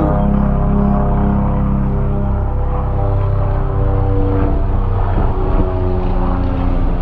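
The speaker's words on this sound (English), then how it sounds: "Pardon that helicopter" A helicopter drones overhead near a garage where a transmission mount is being replaced on a 2008 Chrysler PT Cruiser, a steady low engine hum with throbbing tones holding loud and unbroken throughout.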